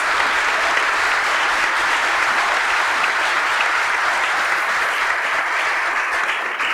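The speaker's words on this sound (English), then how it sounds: "We have another round of applause for all of our filmmakers and winners." An award-show audience at a film festival gives filmmakers and winners a sustained round of dense applause, loud and even throughout, with no voices over it.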